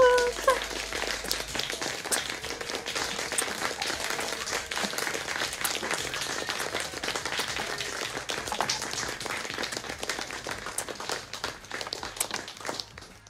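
A crowd applauds the crew of a television series' filming in a continuous, dense patter of clapping that holds steady for over ten seconds, with a voice briefly heard at the start.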